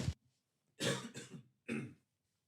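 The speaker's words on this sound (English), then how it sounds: "I just need to clear my throat." A person clears their throat in a short burst followed by two rough throat-clearing pushes, close and fairly loud against near silence.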